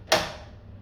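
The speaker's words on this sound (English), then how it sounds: "Open the door." A washing machine door pops open with one sharp click and a short fading rattle, close and alone.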